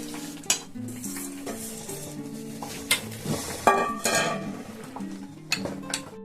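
Spoon stirring and scraping through a pot as ingredients for Joynagar moa are mixed by hand, with repeated clinks of utensil against the vessel and a soft sizzle-like rustle underneath, steady and close.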